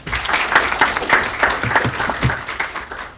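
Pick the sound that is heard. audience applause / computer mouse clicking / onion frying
audience applause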